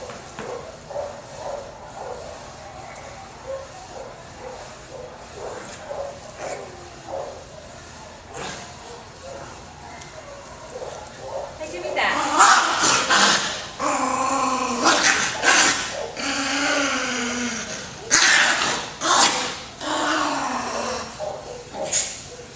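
A terrier growls and worries a ball it is biting, with low rumbling growls and snuffling sounds that get louder and denser in the second half, close to the microphone.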